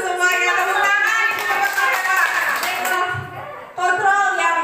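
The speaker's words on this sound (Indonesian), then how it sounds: "Tepuk tangan." Teachers clap their hands together in a room, a brief burst of loose clapping that gives way to talking, with a short pause before a voice resumes.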